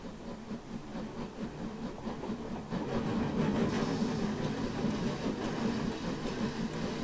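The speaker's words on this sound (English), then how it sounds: "That chuff rate change right there could have been blended a little better" Steam locomotive chuffing in the game Train Simulator Classic, a Machine Rail 999 4-4-0 Empire State Express, with a faint, steady rhythmic exhaust beat and hiss that shifts in rate partway through.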